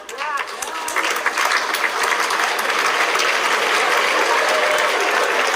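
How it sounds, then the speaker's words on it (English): Parents applauding during a commencement speech: a broad wash of crowd clapping that rises after a quieter start and then stays full and sustained to the end, heard from within the audience. "Parents are applauding"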